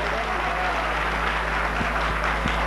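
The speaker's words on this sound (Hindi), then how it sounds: "आपकी भरपूर तालियां जी।" Audience at a musical show breaking into dense, sustained applause, a continuous wash of many hands clapping close and loud with a few sharper claps standing out.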